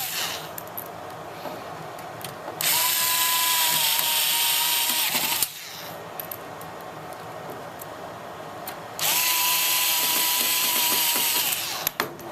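Cordless power driver sinking screws into a replacement power supply in a Dell PowerEdge 840 server chassis: two loud bursts of whirring, a few seconds each, with a brief pause between them and faint clicks around them.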